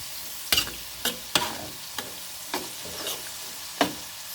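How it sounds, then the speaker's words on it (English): Bacon frying in a pan on medium heat while being stirred gives a soft steady sizzle, broken by several sharp scraping stirs spaced irregularly and close by. "Fry it up some more."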